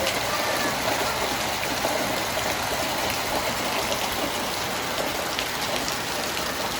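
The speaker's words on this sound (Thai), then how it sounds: "ฝนตกแห้งหลาย" Heavy storm rain falls on a flooded house, a loud, unbroken wash of dense drops with no pause over the whole stretch.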